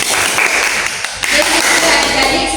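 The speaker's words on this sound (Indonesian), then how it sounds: "kita beri tepuk tangan untuk kelompok 1" In a chemistry classroom, students clap for a group after its presentation. The applause is brief and close, mixed with a little chatter and room noise.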